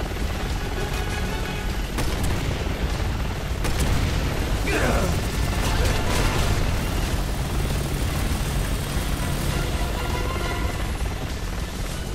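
Loud helicopter rotor and engine noise from Resident Evil 6 fills the scene, mixed with game sound effects and a rising whine, while a person talks over it.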